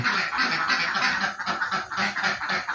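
Laying ducks on a duck farm, many birds quacking together in a dense, continuous chorus of overlapping calls, fairly close.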